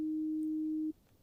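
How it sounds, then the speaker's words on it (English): A basic synthesized sine wave plays as a single pure, steady low tone. It holds at constant loudness for just under a second, then cuts off cleanly into near silence. "the sine wave, which looks like this and sounds like this"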